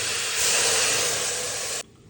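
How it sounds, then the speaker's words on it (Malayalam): Water poured into a hot pan for a Kerala chicken stew with chicken and carrots, giving a loud, steady hiss that swells, then cuts off sharply near the end. "കുറച്ച് വെള്ളം ഒഴിക്കട്ടോ"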